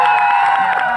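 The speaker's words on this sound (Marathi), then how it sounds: "टाळ्या होत होते जोरदार." A loud crowd at a kabaddi match cheers and claps for a player, a dense wash of applause and shouting with mixed voices, heard up close across the whole moment.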